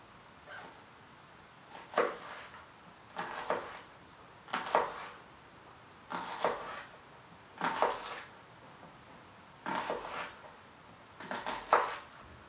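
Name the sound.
knife slicing vertically through an onion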